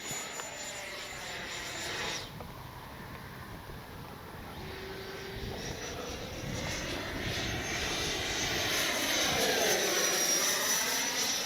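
An FMS 70mm F-18 V2 RC jet flies overhead, a steady ducted-fan whine and rushing roar that swells and fades as the model makes turns, with no talk.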